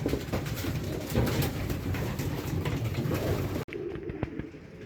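Racing pigeons coo in a loft, soft repeated throaty calls mixed with fluttering and shuffling noise, close and continuous, with a brief sharp break near the end.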